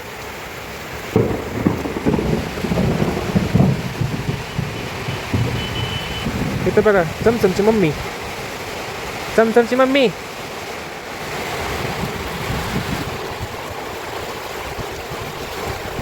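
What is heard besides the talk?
heavy rain with thunder and wind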